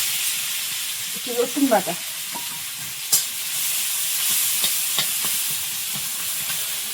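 Panch phoron spices and chopped onion sizzle in hot oil, a steady hiss with a few sharp pops and stirring sounds, while someone speaks briefly over it.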